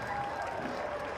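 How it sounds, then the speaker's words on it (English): A crowd at a Banana Ball baseball game in Daytona Beach roars and claps in a brief, dense burst, with a voice talking over the noise. "The crowd goes crazy."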